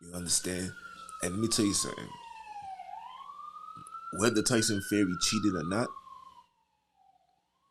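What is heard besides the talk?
ambulance siren passing outside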